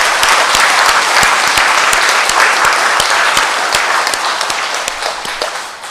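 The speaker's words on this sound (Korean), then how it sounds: "우리 감사의 박수 하느님께 보내드리고 합시다" A Catholic congregation at Sinjeju Cathedral in Jeju bursts into sustained applause of thanks during a Pentecost Sunday Mass, dense steady clapping filling the church for several seconds and easing slightly at the end, with no talk over it.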